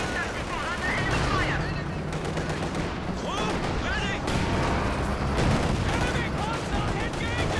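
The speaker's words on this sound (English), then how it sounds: "152 artillery now dropped down on the double AT guns" 152 artillery fires in a Company of Heroes 2 battle, heavy booming blasts and rolling gunfire layered over continuous combat noise, dense and loud throughout with someone commentating over it.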